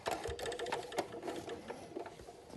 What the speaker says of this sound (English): It's actually sewing on the spot, which is what we want to achieve.